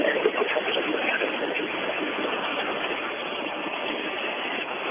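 An office toilet flushing, with a steady rushing roar of water that runs for about five seconds, loud and alone without speech.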